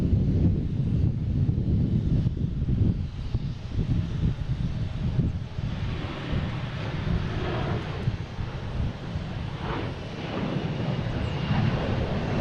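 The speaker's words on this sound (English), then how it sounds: "we have a Delta heading to Atlanta. A321 flight 2464." A Delta Airbus A321 departing Boston Logan for Atlanta gives off a low, rumbling jet roar, steady and moderately distant, with some wind buffeting the microphone and no talking.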